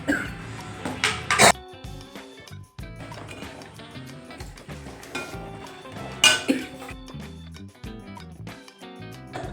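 Mackerel curry with ginger, curry leaves and kudampuli stirred in a pot, producing irregular clinks and scrapes of a spoon against the metal with a few sharper knocks.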